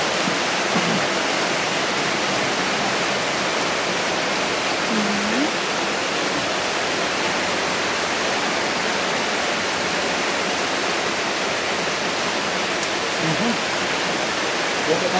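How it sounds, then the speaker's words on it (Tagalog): Heavy rain pours steadily around a home, a dense, unbroken roar that stays loud and even throughout, with faint voices briefly surfacing beneath it. "Lakas ng ulan dito sa amin."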